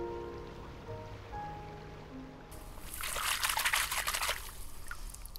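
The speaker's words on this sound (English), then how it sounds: "farmers flood their fields with fresh water to turn them into a suitable home for" Fresh water runs into a flooded rice paddy, first as a faint quiet trickle and then as a louder, steady splashing flow in the second half.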